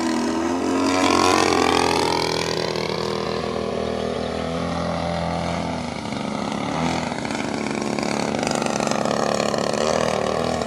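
An E-Flite UMX Turbo Timber Evolution RC plane flies with a steady, loud electric whine that rises and shifts in pitch as it passes, holding continuously throughout with no voices.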